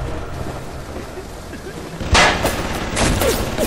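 Sentry turret in the Bioshock video game opening fire with a sudden burst of loud crackling shots partway through, followed by further bursts amid a rumbling, noisy game backdrop.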